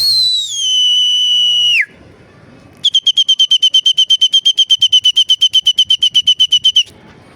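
A pigeon keeper's whistle signals racing pigeons: one long falling blast first, then after a pause a rapid train of about thirty sharp, loud, evenly spaced toots, close and alone.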